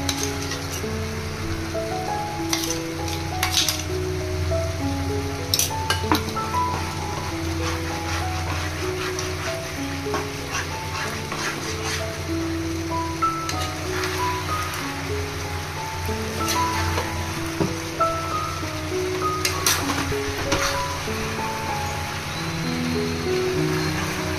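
A cashew and onion paste going into a pan of chicken for a Chicken Afghani recipe, giving a steady, even sizzle and gentle crackle that carries on unbroken throughout, close and moderately loud.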